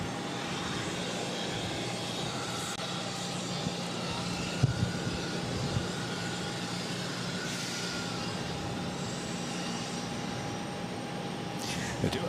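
A Porter Dash 8-400 turboprop at Boston airport gives off a steady, unbroken engine drone with a constant whining tone, moderately distant and holding at an even level throughout.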